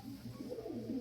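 Pigeons cooing deep inside an old, very deep well, soft low burbling coos that echo slightly, heard alone over a faint background.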